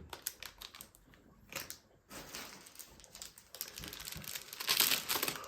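A small, thin plastic garbage bag crinkles and rustles as it is handled up close, in uneven bursts of crackling that grow busier toward the end.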